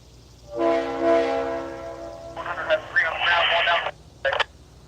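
Near a Southern 4501 steam locomotive excursion train, a long sustained horn-like tone sounds, followed by choppy radio-style voice chatter and a brief final burst. Speech is heard over the scene.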